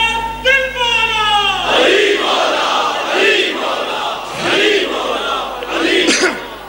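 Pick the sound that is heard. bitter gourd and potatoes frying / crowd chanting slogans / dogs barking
crowd chanting slogans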